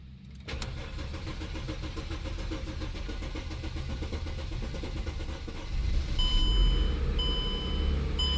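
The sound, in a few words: Mercedes car engine starting and running after fuel pump repair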